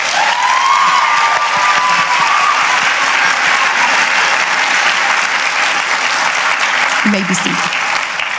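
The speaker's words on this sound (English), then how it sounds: "Please give them a round of applause." At the Laurel Ridge 2024 commencement ceremony, the audience gives loud, steady applause for an honorary degree recipient and the student commencement speaker. A voice briefly speaks near the end.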